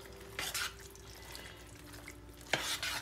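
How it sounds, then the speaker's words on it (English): Cooked penne is stirred into a creamy cream cheese mixture in a crockpot, with faint, soft scraping and wet squelching bursts near the start and end over a quiet background. "I've got my penne, and I'm gonna add that in. And I'm just gonna stir it up."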